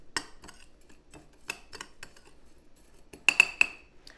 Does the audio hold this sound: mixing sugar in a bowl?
yes